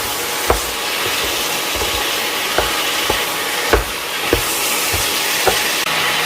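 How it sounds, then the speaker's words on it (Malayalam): Onions or aromatics sautéing in a pan over a medium flame for a Kerala Christmas chicken curry, a steady close sizzle broken by several sharp scraping stirs and clinks of the spatula, with no talking. "ഈ ഒരു മീഡിയം ഫ്ലെയിമിലാക്കണം. ഒരു 1-2 മിനിറ്റ് ഇങ്ങനെ ഇതൊന്ന് വഴറ്റിയെടുക്കണം."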